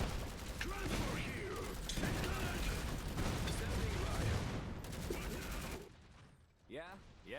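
Machine gun fire from a mobile gunner squad in the strategy game Iron Harvest, dense rapid bursts mixed with other battle noise and mechanical clatter for most of the stretch, then dropping away near the end.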